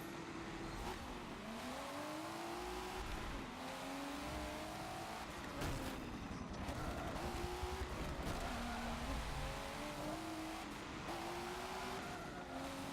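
A W Motors Lycan Hypersport hypercar in Forza Motorsport 7 races with a steady engine drone that rises and falls through gear changes and revs, loud and continuous throughout with no talking.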